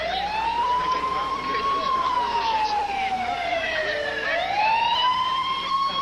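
Ambulance siren arriving, a loud wailing tone that rises and falls in long sweeps and dips sharply as it passes close by, over a rumbling vehicle engine.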